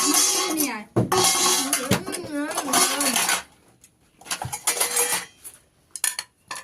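Large plates clattering and clinking as they are handled at home, sharp bursts of dish and cutlery noise coming in quick clusters, mixed with lively voices talking.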